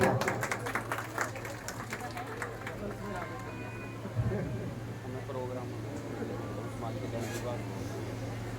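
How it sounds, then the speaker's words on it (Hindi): Applause at an awards ceremony for the men's doubles winners, a steady patter of clapping mixed with crowd murmur and a low hum, with voices talking throughout. "जोरदार तालियां।"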